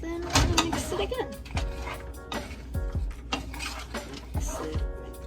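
A spoon works pastelillo filling around a bowl, giving a steady run of clinks and scrapes with a few sharper knocks against the side, close and fairly loud, with a voice sounding in the background.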